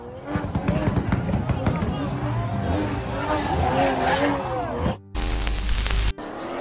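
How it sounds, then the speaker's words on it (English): A Toyota Supra drifting, with tire squeal and engine noise mixed into a busy, loud compilation soundtrack, ending with an abrupt cut to a different steady noise burst. "You drift with the Supra and everyone will follow."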